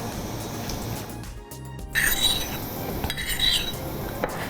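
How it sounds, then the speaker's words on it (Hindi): A utensil clinks and scrapes against a bowl while eggs with salt and turmeric are mixed, close metallic taps and bright chinks in an irregular rhythm, with someone talking over the mixing. "इस तरह से मिक्स करके आप इनको फ्राई कर लें"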